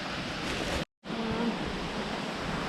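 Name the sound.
waterfall flowing down a cliff face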